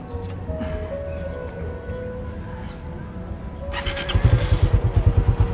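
A Suzuki Raider 150 Fi motorcycle engine idles steadily during a coolant change at home, a low continuous hum that grows louder toward the end with a quick pulsing rhythm.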